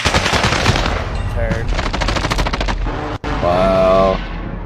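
Rapid automatic gunfire in the video game Call of Duty: Warzone, loud and close, with dense bursts, a brief sharp cutoff, then a pitched weapon whine as it continues.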